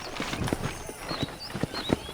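Horse hooves clip-clop in a quick, regular rhythm in Red Dead Redemption, fairly close, with a few faint whistling sounds in the background.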